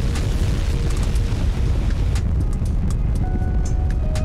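Rocket engines firing at launch in Kerbal Space Program 2, a dense roaring rumble that holds loud and constant for several seconds with no talk, a few thin tones surfacing as it continues.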